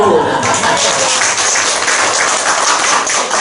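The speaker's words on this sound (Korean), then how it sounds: "박수." A church congregation breaks into sustained applause during a sermon, a loud, steady wash of many clapping hands with no pause.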